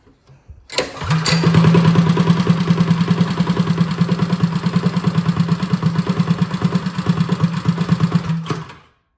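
A rebuilt Motovox minibike engine catches after a brief cranking sound and settles into a loud, steady, slightly low idle with an even chugging pulse, running alone up close for several seconds before cutting off.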